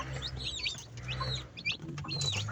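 Pet chickens and newly hatched chicks at feeding time peep and chirp in quick, repeated high bursts close by, over a steady low hum.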